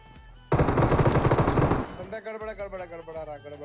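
A dense, rapid burst of automatic gunfire crackles loudly during a PUBG fight against a hacker. It gives way to quicker, lighter shots and game effects, with speech partly underneath.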